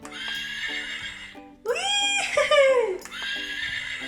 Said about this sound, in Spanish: ¿Y aquí quién hay? ¡El caballo! A ver este, ¿qué hace?